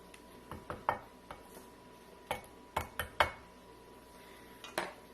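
A utensil scrapes and taps against a baking dish while tomato sauce is spread for a tofu lasagna, with sparse, irregular clinks and scrapes close up and quiet, and no talking.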